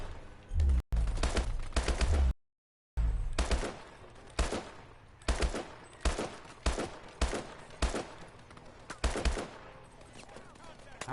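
Video game gunfire crackles in rapid bursts, repeated loud shots and short volleys spread across the whole stretch with a brief dropout partway through.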